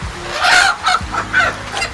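A chicken clucks close by in a rainy village, several short clucks repeating at a steady rhythm.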